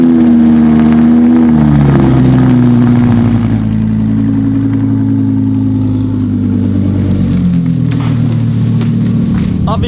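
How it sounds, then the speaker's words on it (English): A straight-piped, naturally aspirated car engine with a titanium exhaust fires up from a cold start, roaring loud and close, then settling into a high, steady cold idle that drones on throughout. "This is gonna be the last NA cold start."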